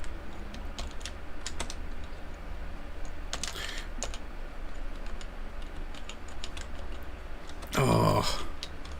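Someone types on a computer keyboard while working in a code editor, with scattered single key taps and short bursts of clicks, ending in a louder, denser flurry of keystrokes. Close and clear, with no voices.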